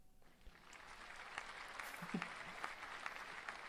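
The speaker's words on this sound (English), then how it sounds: "There's applause." Applause sound effect from a sound board: steady clapping from a crowd, fairly faint and continuous from start to finish, with no voices over it.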